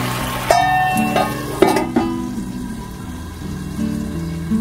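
Okra simmering with water in a covered pan on a low gas flame, giving a steady soft bubbling hiss with a few faint clinks, close by and without talk.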